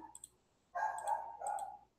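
Dogs bark in short bursts, a couple of quick faint yaps followed by louder sustained barking a little distance away, with light clicks in a quiet room.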